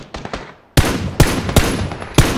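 Gunfire in PUBG during a firefight: a few faint distant shots, then four loud, close bursts at irregular intervals, each a sharp crack with a short ring-out, no talking.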